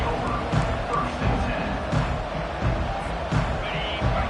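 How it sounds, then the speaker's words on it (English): A fired-up football stadium crowd roars early in a playoff game, a broad continuous din with surging swells and a commentator talking over it. "It's early, but this crowd is fired up. Listen to this noise here."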